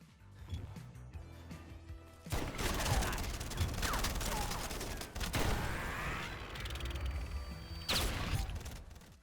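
Gunfire from a shootout in the video game Wanted: Weapons of Fate, dense bursts of shots with mechanical clatter starting after a quieter opening and continuing loudly to the end, with a brief lull midway.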